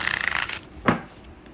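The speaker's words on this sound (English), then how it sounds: "One more shuffle." Tarot cards being shuffled for a monthly reading: a steady papery riffling rush for about half a second, then a single sharper slap as the deck is squared.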